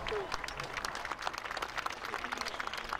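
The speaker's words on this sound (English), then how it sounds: "So I think a round of applause" An outdoor crowd at a Battle Abbey reenactment applauds a Dane axeman, with scattered, fairly faint claps at a distance under a light breeze and a brief voice.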